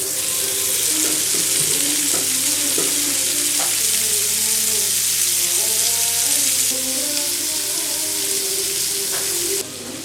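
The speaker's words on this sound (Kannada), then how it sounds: "ಟೇಸ್ಟ್ ಹಾಕಿ ಬಟರ್ ಹಾಕಿ ಫ್ರೈ ಮಾಡ್ತಿದ್ದೇನೆ." Chicken fries in butter with a steady, loud sizzle and crackle, broken by occasional stirring and scraping sounds, with faint kitchen noise behind and no talking.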